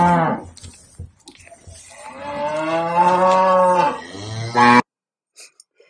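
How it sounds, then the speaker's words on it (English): A Highland cow lets out a long, loud, close moo with a rising and falling tone, preceded by a few soft crunching chews of cud, then silence. "It's a Highland cow"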